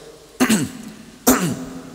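Two deliberate throat clears a second apart, each a short, rough burst of voiced air up close, with no speech around them.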